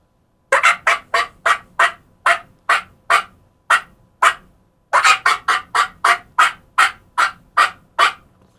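A turkey call imitates a hen turkey cutting: two runs of sharp, rapid clucks, about a dozen each, separated by a brief gap, loud and close with no talk.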